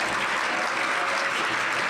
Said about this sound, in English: We're just going to clap all the way through.